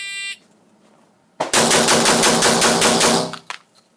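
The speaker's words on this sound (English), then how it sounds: "Let's see how fast we can run through one of these guns." A Mossberg 930 JM Pro autoloading shotgun is emptied in a rapid string of about a dozen loud, closely spaced blasts lasting roughly two seconds, following a short electronic beep, with a final separate shot trailing off.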